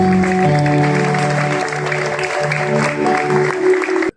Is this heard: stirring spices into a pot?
no